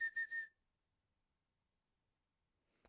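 A person gives three quick, sharp whistle blasts at a steady pitch, close and clear, then silence until a faint noise at the very end.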